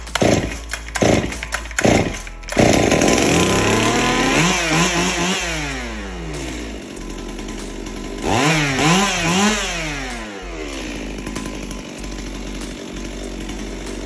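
A STIHL 382 chainsaw sputters with a few sharp pulls, then catches and runs, its engine revving up and down loudly through the rest.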